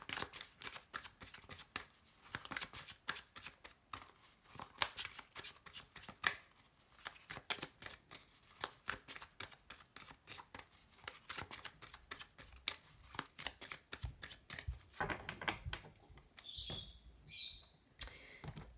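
A deck of oracle cards being cut and shuffled, with rapid papery riffles and flicks repeating steadily and close by, ending in a few brighter swishes near the finish.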